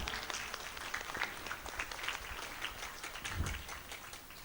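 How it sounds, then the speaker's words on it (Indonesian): Applause from an audience at a Quran school (TPQ) gathering in Indonesia, scattered hand claps running steadily throughout at moderate distance, with a low thump near the end. "Tepuk tangan."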